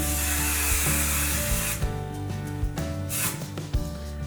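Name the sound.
spraying extra firm hold hairspray on hair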